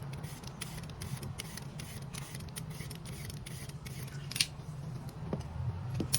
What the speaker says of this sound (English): Let's peel the skin of our carrot first.